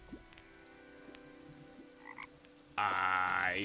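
A frog croaks in the Terraria video game with faint, repeated croaks over a low ambient bed, then a louder tonal game sound swells near the end.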